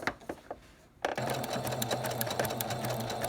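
A sewing machine stitches quilt binding through three layers near a pinwheel quilt corner: a brief, softer lead-in, then after a short pause a loud, rapid, steady run of needle strokes with a whirring motor underneath.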